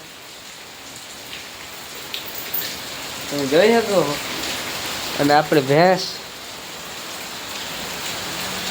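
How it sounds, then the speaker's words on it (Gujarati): Steady rain falls at night around a buffalo shed, a continuous even hiss throughout. Someone speaks briefly in the middle over the rain. "અત્યારે વરસાદ ચાલુ થઈ ગયો છે"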